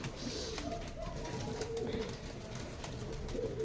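Pigeons in a loft, soft low cooing repeated under a steady background hiss, faint and close, with a few light rustles and flutters.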